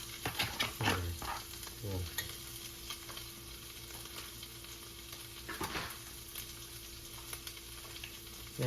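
Cooked, sticky rice stir-fried in a pan gives a soft, steady sizzle under repeated scraping strokes of a spatula, quiet and close, with a few brief louder scrapes.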